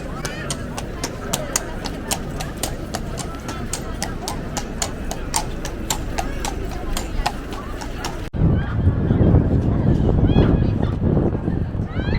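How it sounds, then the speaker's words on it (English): Regular clip-clop hoof beats of a horse and carriage over an outdoor crowd murmur in a Bruges square, then the scene switches to a louder, busier street ambience without the hooves. "Some horse and carriage."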